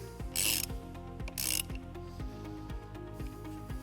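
Ratchet with a 10mm socket turning the nut on a battery terminal of a 2012 Dodge Nitro, producing steady, evenly spaced ratcheting clicks close by at moderate level.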